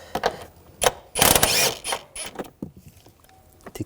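Ratchet wrench removing a nut on a 2009–2017 Volkswagen Tiguan 2.0L during fuel pump module work, short bursts of close, rapid clicking with a longer loud run of ratcheting in the middle.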